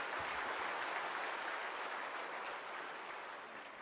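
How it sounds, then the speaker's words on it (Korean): Congregation applauding warmly during a Sunday church worship service, a dense steady wash of many hands clapping throughout, easing slightly toward the end. "우리 뜨거운 박수로 축하합니다."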